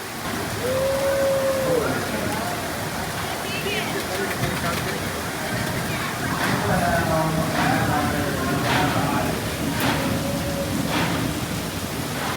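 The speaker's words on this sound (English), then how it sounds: "the rain's really picking up again" Steady heavy rain hisses throughout at Dollywood theme park, with voices talking and shouting over it and occasional whooshing passes.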